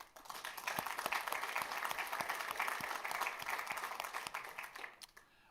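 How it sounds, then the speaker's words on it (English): Sustained applause from a large audience at a university state-of-the-university address, dense, even clapping that holds steady for several seconds before tapering off at the end. "I appreciate the applause"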